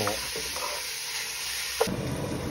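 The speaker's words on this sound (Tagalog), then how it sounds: "At ihalo naman natin ang ating pork para maluto." Pork with ginger and onion stir-frying in a hot pan, a steady close sizzle with light scraping stirs and a brief clack partway through.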